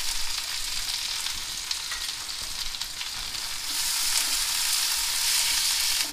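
Onions with mustard seeds, chana dal, urad dal and green chillies fry in hot oil for a potato masala dosa filling, a steady close hiss that grows louder and fuller partway through, with no talking.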